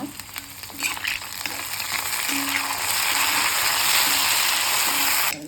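Mint leaves frying in hot oil with ginger and garlic for a chicken kurma, a dense hissing sizzle that swells louder as it goes, with faint stirring clicks underneath and no voices.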